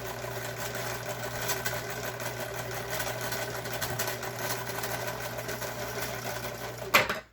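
An old Husqvarna sewing machine stitches fabric with a steady, close, fast mechanical whir and hum that runs continuously, then stops abruptly with a clunk at the end.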